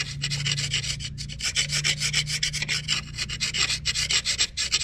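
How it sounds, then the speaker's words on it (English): Old gasket residue is scraped by hand from around the exhaust port of an aluminum cylinder head on a Ford 5.4 engine, a close, continuous rasping in quick back-and-forth strokes with no talk. "So you just want to scrape all that stuff off, get it nice and clean."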